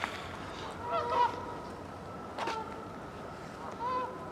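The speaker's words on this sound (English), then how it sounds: "I hear the gooses down here at Wannamaker raising fuss" Geese honking near water, a few harsh calls at intervals from a small group, moderately distant, over faint ambient background.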